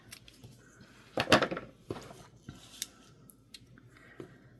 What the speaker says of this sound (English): cut a couple pieces of this